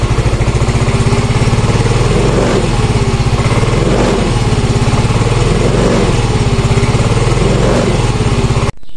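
A motorcycle engine runs continuously up close and loud during a diagnostic scan, holding a steady throbbing idle with a slow, gentle rise and fall in revs before it cuts off abruptly at the end.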